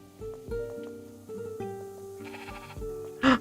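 A sheep in a video game, giving several short bleats spaced a moment apart and ending in a louder, sharper cry, clear and close with no talking.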